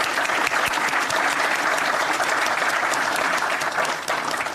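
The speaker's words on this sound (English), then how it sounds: "Let's give them a big round of applause." Sustained, loud applause fills the space at a parkway grand opening ceremony. The crowd's clapping is dense and even, with some sharper individual claps popping out, and it holds steady throughout.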